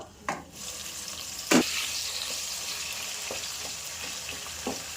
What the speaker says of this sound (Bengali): মধ্যে আলুগুলো ভেজে নেব।